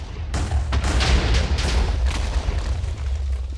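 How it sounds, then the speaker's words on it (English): A big explosion in the video game Minecraft sets off a dense rolling series of booms and crackling bursts, loud and sustained for several seconds, with no talk over it. "this is gonna be a big explosion"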